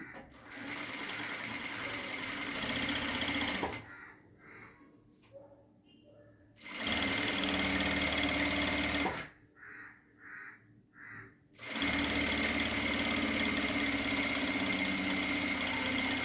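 A sewing machine stitches a work blouse in close, loud bursts of rapid running, separated by pauses. During the pauses, crows cawing can be heard faintly in the background.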